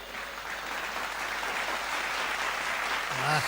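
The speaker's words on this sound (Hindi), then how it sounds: "ताली सब बजाओ तब ये हाथ नीचे आएगा।" Sustained audience applause at a Hindi comedy poetry show, dense and even, with a voice briefly rising over it at the very end.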